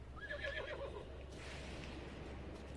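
A horse whinnies in the video game Breath of the Wild, a short, faint high neigh early on over a low background hum.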